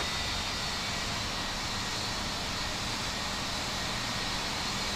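Airliner jet engines taxiing at New York's JFK airport in the flight simulator game Infinite Flight, heard as a steady, even, broadband roar that holds unchanged throughout.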